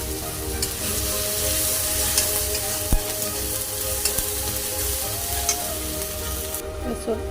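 Chopped green chillies and turmeric sizzle steadily in a hot pan while being stirred, a loud, continuous frying hiss with occasional scrapes of the spoon, during a Bengali masoor dal preparation with egg and papaya.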